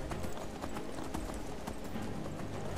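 Rhythmic hoofbeats of a horse galloping in Skyrim, a steady fast clip-clop with a dense background rumble, loud and continuous throughout.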